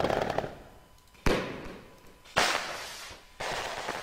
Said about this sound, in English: Firework Mortar. Okay, got it load. Here we go.